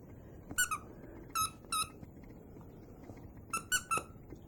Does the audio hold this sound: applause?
no